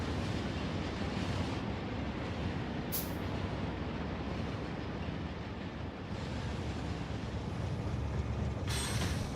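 A train ride in Factorio produces a steady, loud rumbling rail roar that continues without a break, with brief hissing bursts at moments.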